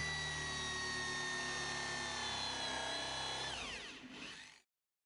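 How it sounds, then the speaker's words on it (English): Hole saw cutting a 50mm hole in a floor drain base component, a steady high whining power-tool drone with strong harmonic tones, the pitch sliding down as it winds off and stops abruptly near the end. "Using a hole saw, cut a 50mm hole in the floor drain base component."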